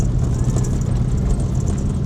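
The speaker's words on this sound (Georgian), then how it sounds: "ვენტილატორი ედება სავარაუდოდ მაგის ხმა." Car engine running on cooking oil with its radiator fan rubbing, a steady close rumbling drone with a faint scraping hiss over it throughout.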